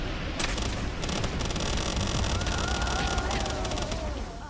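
Meteor Rain attack in the game Palworld, a dense, loud crackling barrage of explosive impacts with a rising whine layered through it, sustained for several seconds before tailing off.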